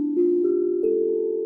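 A steel tongue drum tuned with magnets to a harmonic minor scale sounds a few ringing notes in quick succession, each stepping to a new pitch. The tones are quiet, pure and sustained, and play alone.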